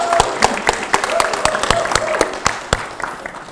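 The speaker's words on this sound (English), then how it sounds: "a big round of applause for our third prize winners" Applause from the audience at a Johannesburg smart city community innovation awards ceremony as third prize winners are honoured, with sharp individual claps standing out over a steady wash of clapping for several seconds, while voices murmur underneath.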